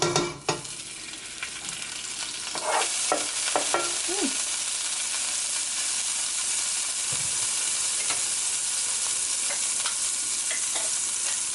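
Oil and butter sizzle and crackle steadily in a hot pan on a stove, with a few stirring scrapes near the start, holding a constant frying hiss throughout.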